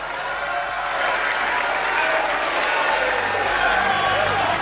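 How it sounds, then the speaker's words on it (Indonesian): Sustained audience applause for Prabowo Subianto at a PSI declaration of support event for the 2024 presidential election, a dense, steady wash of clapping from a large crowd with voices mixed in. "Beri tepuk tangan yang mulia untuk Bapak Prabowo Subianto."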